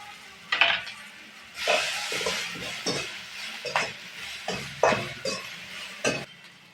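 Sliced curry chillies sautéing in a pan for a cow's-milk dish, with a soft sizzle under repeated scraping and clinking strokes of a spoon stirring against the metal, close and moderately loud.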